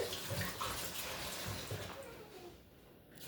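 Water splashes and runs as dried fish is rinsed in a bowl for a Haitian fried fish dish, a close, moderately loud sloshing that fades and thins toward the end, with no voices.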